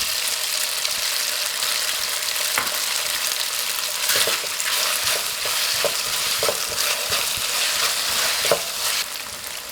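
Egg with soy sauce and crumbled glass noodles stir-fried in a wok, a steady close sizzle broken by scraping spatula strokes and clinks, no voices.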